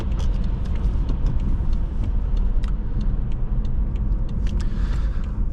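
A 2013 BMW 750Li xDrive accelerates hard with a surge of torque, its deep engine and road rumble steady and loud from inside the cabin.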